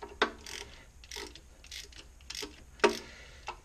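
A ratchet fitted with swivel extensions works a timing cover bolt on a Ford 5.4 3V engine, giving quiet, repeated metallic clicks in short uneven bursts, close by, with a few louder snaps.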